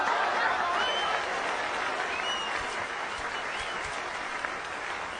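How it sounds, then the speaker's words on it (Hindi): A crowd applauds in a steady, full wash of clapping that holds evenly for several seconds with no speech over it, slowly easing off a little toward the end. "तालियां तो बजा दी"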